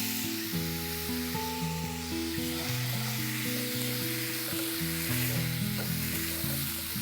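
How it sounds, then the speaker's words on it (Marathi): Fresh grated coconut and sugar sizzle and hiss steadily in a pan as they are sautéed for a karanji filling, with a constant frying sound and no talk. "साखर आणि खोबरं वितळलं पाहिजे, सगळं एकजीव झालं पाहिजे, छान असं परतून घ्यायचंय"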